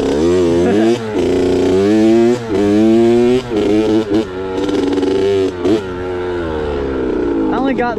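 A Kawasaki KX65 two-stroke pit bike rides muddy trails, its engine loud and close with a buzzy, high-pitched drone that rises and dips in repeated throttle blips and short revs, with brief cutoffs between pulls.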